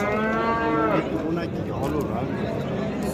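Cows at a cattle market mooing loudly and close by, one long drawn-out low moo followed by further lowing, amid a noisy crowd with people talking in the background.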